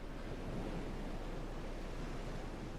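Water surrounding the gothic city of Yharnam in the video game Bloodborne gives a steady, dense wash of surf and waves with no breaks, alone and without voices.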